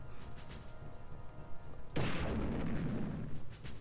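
A single heavy boom bursts midway through a quieter game scene in Army Men Sarge's Heroes as a bazooka fires, then a rumbling blast tail lingers.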